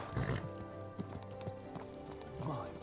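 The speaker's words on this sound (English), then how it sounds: "What a beautiful horse." Horse hooves clip-clop in the medieval video game Kingdom Come Deliverance, a steady run of close, moderately loud hoofbeats over a sustained tonal game soundscape, with no talking.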